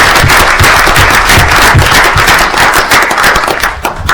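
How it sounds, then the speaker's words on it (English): Loud, dense clapping from attendees at a town board of aldermen meeting honouring a Red Raiders coach, close and continuous with crisp individual claps throughout, no voices over it. "Let's have a round of applause for Coach Vaca."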